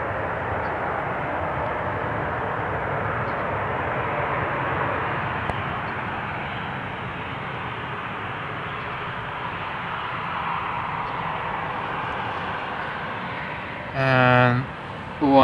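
A KLM Boeing 737 jet at Amsterdam Schiphol Airport's Polderbaan runway, a loud, broad, steady engine roar that holds throughout, with a brief burst of talk near the end.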